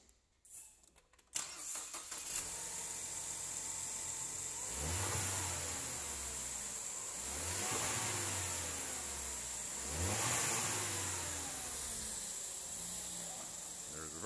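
A 2014 Ford Escape SE with a 2.0-liter engine, six-speed automatic and all-wheel drive cranks and catches, then settles into a steady idle broken by three rising revs spaced a few seconds apart, heard close with no talk.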